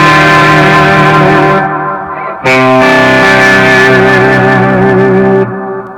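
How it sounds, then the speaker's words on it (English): An electric guitar plays through a Catalinbread Octapussy fuzz and a Montavillian delay, giving thick, sustained fuzzy chords with ambient echo trails; one chord rings out, fades, then a fresh loud chord is struck and sustains. "It's just a basic, nice, ambient kind of echo."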